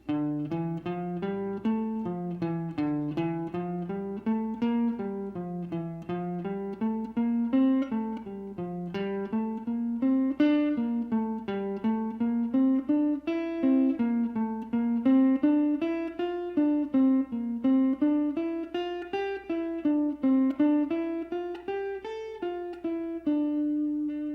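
A clean guitar plays a steady run of single notes, climbing and falling through a repeating scale pattern at an even pace.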